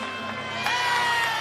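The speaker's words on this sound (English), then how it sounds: "Crowd exploding for her release move" A college women's gymnastics meet between Georgia and Auburn: the arena crowd roars and cheers steadily for a release move on the bars, a dense wash of voices that swells slightly toward the end.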